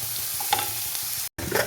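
A whole onion fries in a pan for sambar, giving a steady close sizzle with a brief stirring scrape and a short dropout near the end.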